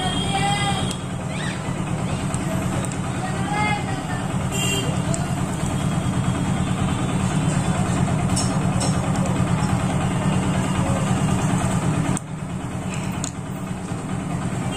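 A Hero Glamour motorcycle engine idles steadily after a carburettor adjustment, a continuous low mechanical drone with light creaks and ticks, holding even throughout and dipping slightly near the end.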